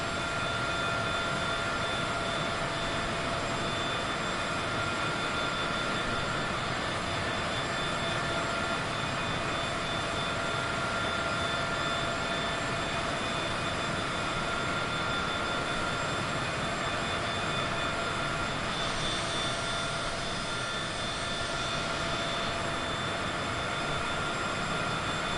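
A private jet engine in Microsoft Flight Simulator 2024 gives a steady, loud turbine whine and roar with high tonal lines, holding constant for a long stretch with a brief swell near the end.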